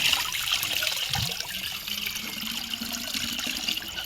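Water running steadily, a continuous close trickling and rushing stream that stays fairly even and slightly eases off partway through, with no voices.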